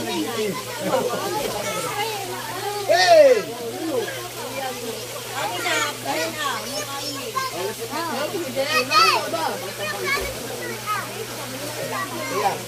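Children splash and shout while swimming in a pool, with excited voices and water noise throughout, and adults talking over the play.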